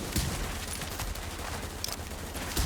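Sniper rifle fire in The Division video game, with sharp shots cracking out one after another over a noisy background of battle in a quick, close burst.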